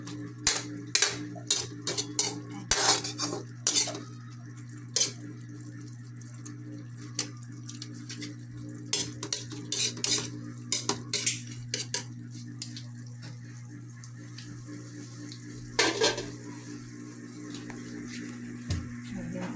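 Alugbati, or Malabar spinach, sautés in a pan, with repeated clacks and scrapes of a utensil against the pan over a low, steady background hum.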